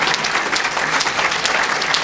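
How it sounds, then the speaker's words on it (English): A brief burst of steady audience applause fills the room, many hands clapping at once at a close, even level with no voices standing out. "Let's have a round of applause for gay penguins."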